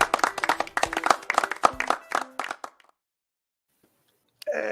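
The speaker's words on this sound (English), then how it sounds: "How do you make your one clap sound like so many claps?" One person claps hands rapidly in a podcast studio, a quick dense burst of sharp claps mixed with voices, followed by silence and a brief return of sound.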